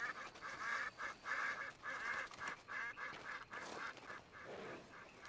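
Ducks quacking in the Red Dead Online video game, a steady run of repeated nasal calls that comes in bursts and keeps going close and clear, with no talking over it.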